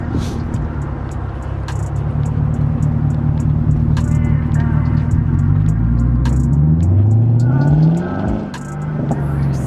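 A loud Pontiac G8 engine with muffler delete and X-pipe revs and drones continuously, with rapid sharp pops and crackles from the exhaust scattered over the roar.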